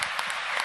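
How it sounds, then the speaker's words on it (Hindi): Audience applause welcoming a revered religious figure at a spiritual gathering, a steady dense wash of clapping that holds for under a second. "आप सब तालियां बजाकर पूज्य ठाकुर जी महाराज का स्वागत करें।"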